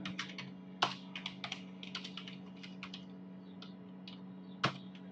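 Someone types a command at an MS-DOS prompt on a computer keyboard, a quick uneven run of close, crisp key clicks with a couple of sharper strikes over a low steady hum, no speech.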